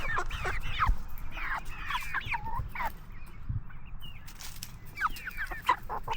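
Backyard chickens clucking and squawking in a continuous busy chatter, several birds close by calling over one another against a low rumbling background.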